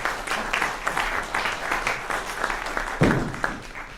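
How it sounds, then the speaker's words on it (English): Audience at a brass band festival applauds as the adjudicator is introduced, a steady wash of clapping filling the room for several seconds with a brief louder swell near the end. "We'll applaud him."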